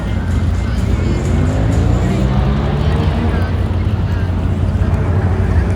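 A Dodge Viper pulls away from a supercar event in Barrington, heard as a loud, low engine rumble with steady drive-away noise and wind buffeting, while people talk over it.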